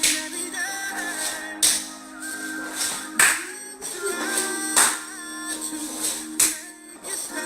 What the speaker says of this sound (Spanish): Aplaudeix